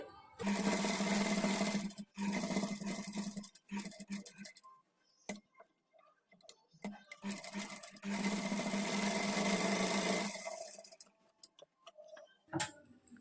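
A sewing machine stitches a blouse with canvas and thread piping. Two long whirring runs of rapid needle stitching alternate with short stop-start bursts and quiet pauses, close by, with no talking.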